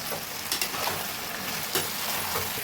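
Fried chicken pieces are stirred into sauce in a pan, a continuous close sizzle broken by a few sharp scrapes and knocks of the spoon against the metal.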